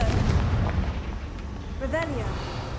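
A Confringo fire spell blasts in the video game Hogwarts Legacy. It comes as a loud booming burst over a dense low rumble, followed by a rising whoosh. A voice speaks briefly around it.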